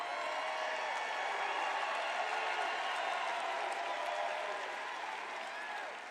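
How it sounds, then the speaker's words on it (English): Sustained applause from a large crowd at a political rally, steady and fairly distant, fading slightly toward the end. "I don't think I've ever introduced anybody that got applause like that."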